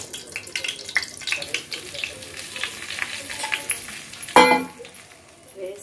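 Wheat flour is stirred into melted ghee in a pan for jaggery halwa, giving steady soft sizzling with scraping spoon strokes throughout and one sharper clatter near the end, fairly close.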